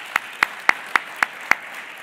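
Applause for the Rocky Mountain Blue Sky Legacy Award winners at a green business awards event, heard here as six evenly spaced, crisp claps in a steady rhythm, close and distinct against a quiet background.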